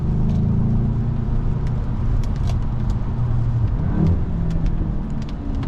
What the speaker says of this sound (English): Get a little pop out of the exhaust on the way down.